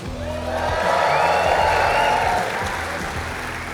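An audience of conference members at a live podcast taping breaks into loud, sustained applause with some cheering, filling the room for several seconds before tapering slightly.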